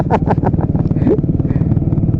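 A motorcycle ridden along a dark road at night in Cavite, its engine a close, steady low chugging throb that runs the whole time, with someone talking over it.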